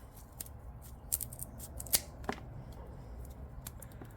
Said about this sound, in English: Rotten stems usually cut off better with scissors.